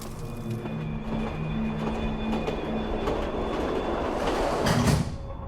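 A train runs steadily with a continuous loud rumble and rattling wheels, while faint sustained squealing tones ride over the noise.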